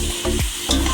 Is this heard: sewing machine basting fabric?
no